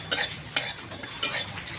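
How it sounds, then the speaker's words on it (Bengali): Black mustard seeds and whole spices dry-roasting in a pan for a sour-sweet elephant apple pickle, stirred with a few separate, crisp scraping strokes against quiet background. "এই মশলাগুলো অর্ধেক ভাজা হয়ে গেছে এবার এই সর্ষেটা দিয়ে দেবো"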